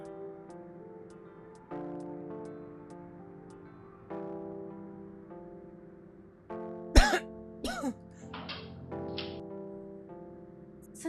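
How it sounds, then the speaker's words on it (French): A woman coughs in a short burst of harsh, rough coughs partway through, heard over a steady, faint background of tonal music in a Nigerian drama scene. "Parce que tu tousses."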